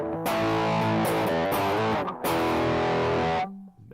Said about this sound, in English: Turbo distortion.